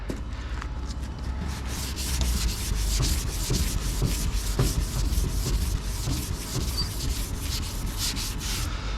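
Continuous rhythmic rasping of sandpaper on a block stroking back and forth across a car body, close and steady.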